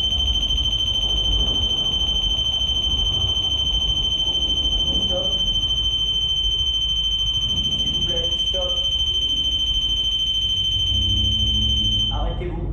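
A detection pod device emits a continuous high-pitched electronic tone, steady and loud throughout, with faint rustling and someone speaking French underneath.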